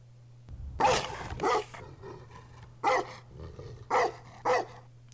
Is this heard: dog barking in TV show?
yes